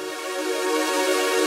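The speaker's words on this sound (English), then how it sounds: "reverse the sound so the decay actually becomes a build" A reversed synth keyboard chord, its decay turned into a build, swells steadily louder as a sustained, dense tone with no other sounds.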